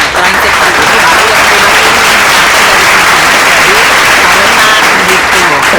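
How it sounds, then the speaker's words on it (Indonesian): Classroom audience applause after a student answers a question during a talk on gender identity, a loud, dense wash of clapping filling the whole stretch close up and steady. "Pintar, tepuk tangan."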